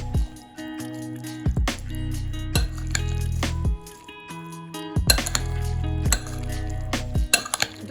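Olivier salad being mixed in a bowl with a little added oil, giving wet squishing and intermittent clinks of a utensil against the dish.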